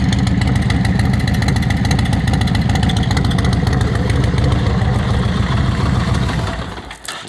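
A 2004 Yamaha Road Star 1700 bobber chopper runs steadily at close range, its exhaust giving a loud, throbbing V-twin idle pulse that holds even before fading and dropping off in the last second.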